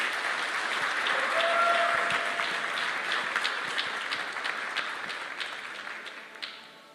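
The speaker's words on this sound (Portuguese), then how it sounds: "Uma salva de palmas para essa tia aí." A sustained round of applause from an audience honouring a woman, thick and even clapping with some sharp individual claps and a brief whistle, gradually thinning and fading toward the end.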